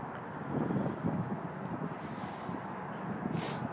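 Wind blowing outdoors and buffeting a microphone, a steady low rumbling roar that holds for the whole stretch with small gusty swells.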